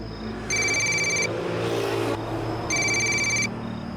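A telephone ringing in two electronic bursts separated by a short pause, clear and fairly close, over a low room background.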